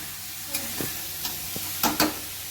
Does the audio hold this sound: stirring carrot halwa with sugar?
yes